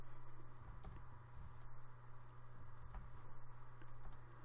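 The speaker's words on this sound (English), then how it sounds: "It's using my keyboard." Typing on a computer keyboard, with a steady stream of soft, close clicks over a constant low electrical hum and no talking.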